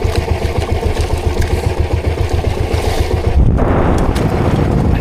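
A boat engine runs on the open Pacific with a steady, close, pulsing putter and wind buffeting the microphone, then shifts to a denser, stronger roar near the end.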